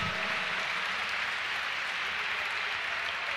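A church congregation applauds loudly and steadily, a dense, even wash of clapping from a large crowd with no voices standing out.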